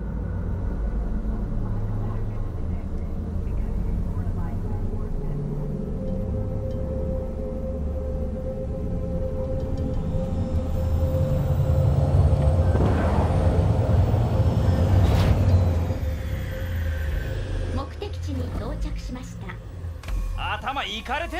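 Aircraft landing sequence in the video game Cyberpunk 2077: a steady low engine rumble and hum builds to a louder surge mid-clip, then falls back, with voices talking over it throughout.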